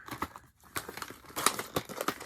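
Crinkly plastic pouch being handled, a run of sharp rustling bursts and crackles, close up, with no talking.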